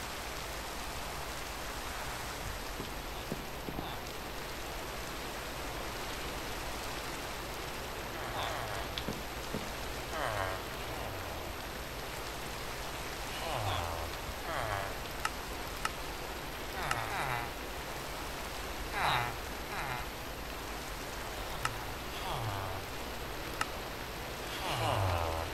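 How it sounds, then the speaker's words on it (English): Steady rain falls in the Minecraft video game, a continuous broadband hiss with scattered drop patters, while a person talks quietly over it at intervals. "Rain, rain, go away, come back on another day."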